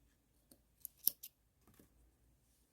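Scissors snip yarn during knitting of a panda dish scrubber, giving a few quick, faint clicks close by in an otherwise quiet room.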